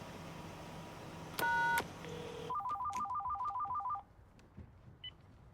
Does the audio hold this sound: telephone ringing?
yes